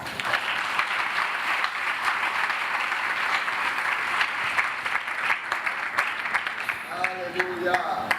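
Steady, even applause from a church congregation fills the space, with faint voices surfacing near the end.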